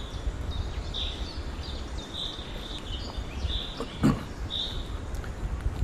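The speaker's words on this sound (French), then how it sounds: "Écoutez les oiseaux." Forest birds near Aledjo Falls in Togo chirp in short, high, repeated calls scattered over a steady background hiss, moderately faint.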